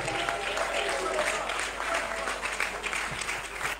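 A church congregation applauds steadily throughout, a dense, continuous wash of clapping at moderate loudness with faint voices mixed in.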